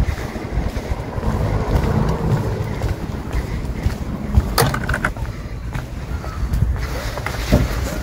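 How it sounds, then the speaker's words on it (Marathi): A ferry boat moves across water in strong wind, a steady loud rumble of engine and buffeting wind noise with splashing, continuous and close throughout. "चला आतां वयता पात्रांव वचूंक लागला म्हाका सोडून."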